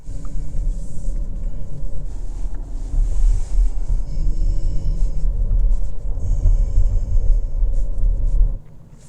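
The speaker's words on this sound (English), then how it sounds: "we're just about into downtown, and we'll start driving around" A 2024 Porsche Cayenne e-hybrid driving through a city downtown, heard from inside as a steady loud low rumble of road and wind noise throughout, with no talk.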